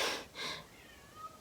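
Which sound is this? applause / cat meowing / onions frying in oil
cat meowing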